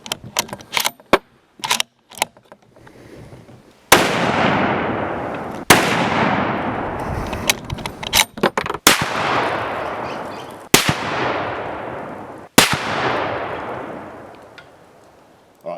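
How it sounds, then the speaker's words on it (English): Rifle shots fired at a 100 metre zeroing target, five loud sharp reports spaced a couple of seconds apart, each with a long fading echo, preceded by a few quick mechanical clicks and handling knocks. "Alright, so he's fired his next group"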